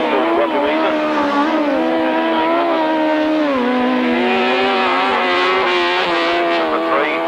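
Grasstrack sidecar racing outfits at a 1993 Staplecross meeting run flat out around a turn, their engines a loud, continuous high-revving roar with shifting pitch, under a commentator's voice.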